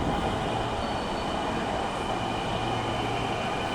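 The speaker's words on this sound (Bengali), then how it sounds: "চলে এসেছে মেট্রো রেল।" A Dhaka metro rail train pulls into Shahbagh station with a steady rolling rumble and a thin high whine that holds throughout, with no talk over it.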